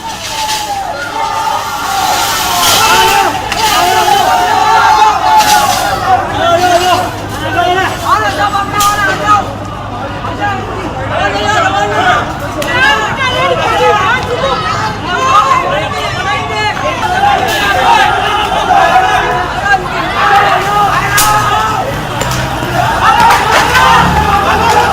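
Loud, dense crowd in a street clash in Jodhpur after Eid prayers, many voices chanting and shouting religious slogans at once, sustained and overlapping throughout with no single voice standing out.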